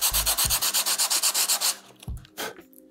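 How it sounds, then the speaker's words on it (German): Bicycle disc brake pads scraped back and forth over sandpaper, a close, steady run of about a dozen rhythmic rasping strokes, then a few slower, separate scrapes. "ich nehme die Beläge, ziehe sie über ein Schleifpapier."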